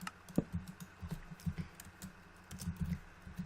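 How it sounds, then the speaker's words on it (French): A computer mouse clicks in a series of faint, irregular taps, sounding close and fairly quiet, with no voices over them. "J'espère qu'on n'entend pas trop mes clics de souris."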